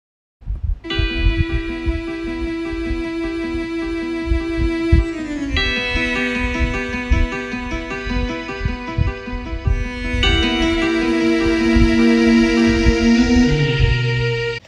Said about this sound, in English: Here's the first section of the main theme played by acoustic guitar